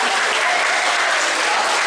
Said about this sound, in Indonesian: Baik anak-anak, tepuk tangan untuk yang sudah disampaikan oleh Pak Agung.